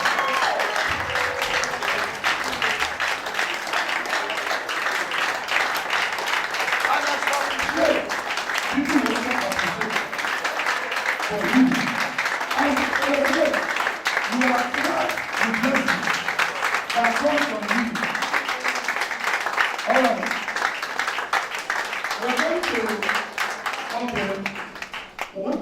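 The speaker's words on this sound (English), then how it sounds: "Keep on clapping." A large audience at a leadership summit claps steadily and continuously, a dense broadband wash of applause filling the room, with a voice talking over it intermittently.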